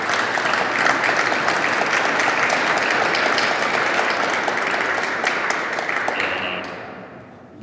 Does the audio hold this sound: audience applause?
yes